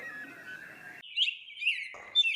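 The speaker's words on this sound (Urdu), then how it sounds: "چڑیوں کی چہکار" Sparrows chirp in a quick series of bright, high calls, alone and fairly close, with brief pauses between bursts.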